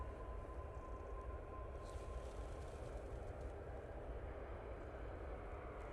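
A Ryanair airliner moving onto runway 05 left produces a steady, distant engine roar at an airport, a broad continuous rumble with no voices.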